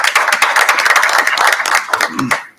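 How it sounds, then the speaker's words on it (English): A crowd at a school district meeting claps together in dense, steady applause that tapers off toward the end. "Just give her a round of applause."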